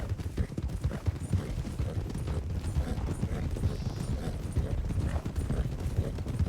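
Several horses trot in formation in the western roleplay game RedM, a steady run of clip-clop hoofbeats at moderate loudness with faint mechanical clatter underneath, continuing throughout.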